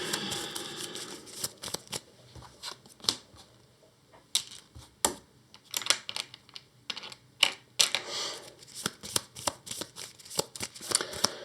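Playing cards are shuffled back into a deck at a tabletop game of Earthborne Rangers, giving bursts of crisp riffling and clicking with short pauses between them, close and fairly quiet.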